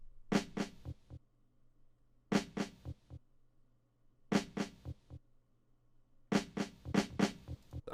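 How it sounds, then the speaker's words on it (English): Crisp snare hits from a boom bap drum pattern, played in short clusters of sharp, bright cracks that repeat four times about every two seconds over a faint steady hum, with no voices. "This is what the snare is gonna sound like."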